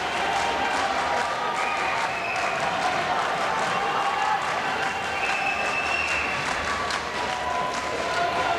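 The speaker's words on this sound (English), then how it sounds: "the fans getting a rhythmic applause going" Gymnastics crowd at a high school men's finals arena keeping up dense, continuous applause with cheering and echoing hall noise, loud and sustained throughout.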